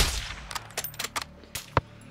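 Gunfire from a single weapon in the Call of Duty Modern Warfare 2 story campaign: a series of sharp, separate shots in an irregular rhythm, each a loud crack, with the last and strongest near the end, no talk.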